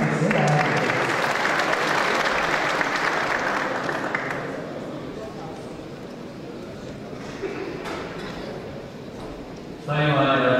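Audience applause at the opening of a vocational education day event, a steady dense clapping that fills the room for several seconds, fades a little in the middle, then swells again near the end.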